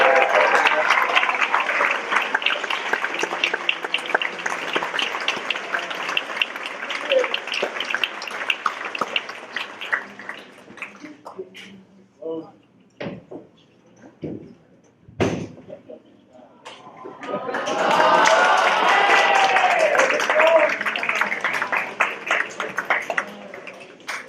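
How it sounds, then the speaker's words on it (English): Audience applause at a student leadership awards ceremony, a dense roar of clapping for ten seconds that breaks into scattered claps and thumps, then swells again into full applause. "Let's all give a round of applause and show you"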